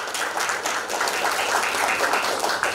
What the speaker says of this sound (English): let's give the entire panel a huge round of applause